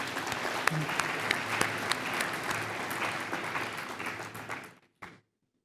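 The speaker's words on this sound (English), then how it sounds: "Please give them a round of applause." Applause for a volunteer hall of fame committee at a sports hall of fame induction ceremony, a full, sustained clatter of clapping with a few sharp claps standing out, then cutting off abruptly near the end.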